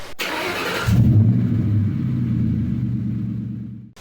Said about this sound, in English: the Milwaukee 90-degree die grinder